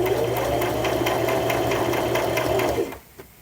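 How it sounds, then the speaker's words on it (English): A sewing machine runs a steady, fast stitching whir along the seam of a 1950s-style dress bodice and lining, the fabric guided under the presser foot, then stops abruptly near the end. "I'm using the line of, this is the seam stitching, and I'm feeding it through using markers on my presser foot"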